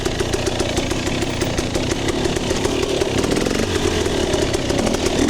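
A KTM 300 XC two-stroke dirt bike rides a trail at Stony Lonesome in Bremen, Alabama, its engine buzzing loud and close with a rapid, pulsing rev that rises and falls, and no voices.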